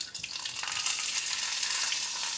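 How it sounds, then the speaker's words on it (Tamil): Chopped pirandai (veld grape) sautéing in hot oil with mustard seeds, a steady bright sizzle running throughout at moderate level with faint stirring underneath. "இப்போ பிரண்டையை போட்டுடலாம்."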